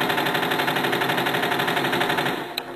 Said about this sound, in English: switch weapon to the primary weapon. Alright, let's fire normal.